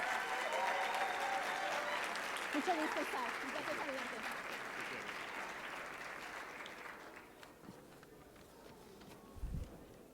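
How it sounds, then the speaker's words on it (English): Sustained applause from a large audience at a formal anniversary gala in a hotel ballroom, a dense patter of clapping that slowly tapers off near the end, with faint voices underneath. "Let's welcome him with a great round of applause, please."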